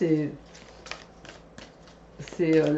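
Tarot cards being shuffled during a June horoscope reading for Scorpio: a few soft papery riffles and flicks, close and quiet, between stretches of a woman's speech at the start and end.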